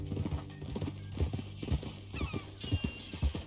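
Horse hooves clip-clop in a steady walking rhythm close by, with a brief whinny partway through, in the Red Dead Redemption western video game.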